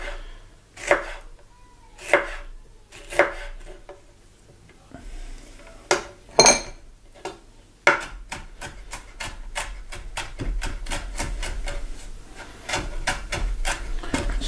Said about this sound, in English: Time to add chop up the jalapenos. I'm slicing it up at first